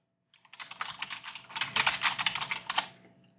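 Steady typing on a computer keyboard, a quick patter of close, crisp key clicks running continuously for about three seconds with no talking.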